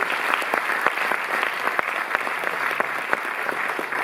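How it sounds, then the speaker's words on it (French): A crowd at a film retrospective opening in a Paris cinematheque applauds. The clapping is dense and sustained, with crisp individual claps standing out near the listener. "vous pouvez même l'applaudir"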